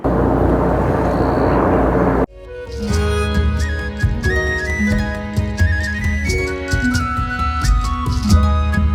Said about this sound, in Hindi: ऊपर देखो भाई अभी हेलीकॉप्टर जा रहा है